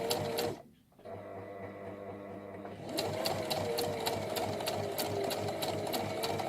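A sewing machine runs steadily as it stitches fabric for a Tilda doll, with a brief pause near the start before the continuous whirring needle rhythm resumes, close and clear with no talk.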